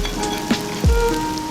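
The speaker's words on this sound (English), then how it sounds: "the beef cooks and browns up really nicely on a super hot sizzling skillet" Beef browning on a very hot skillet gives a steady, close, continuous sizzle with crackling fat, loud throughout and with no talking.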